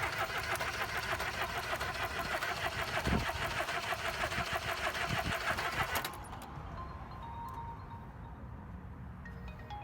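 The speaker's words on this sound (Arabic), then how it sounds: "بس وانت بتجرب هتوصل السلوك وهتدي العربيه سنه مارش" A car engine is cranked by its starter during a crankshaft position sensor test, giving a steady rapid mechanical churning for several seconds before it cuts to a quieter, faint hum.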